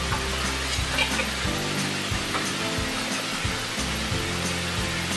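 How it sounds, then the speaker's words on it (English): A compression ring on a garbage disposal pipe is tightened by hand, giving a close, repeated ratcheting click and gritty scraping in an uneven rhythm with no voices. "Tighten up this compression ring right here."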